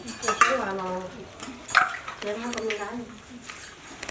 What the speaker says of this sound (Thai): แม่กำลังตักกับข้าวนะคะทำเป็นหม้อใหญ่แบบนี้นะ